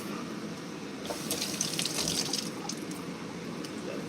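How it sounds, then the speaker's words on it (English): Kitchen tap runs steadily as leftovers are rinsed in the sink, a close, continuous stream of water that swells with splashing through the middle. "let me rinse this out"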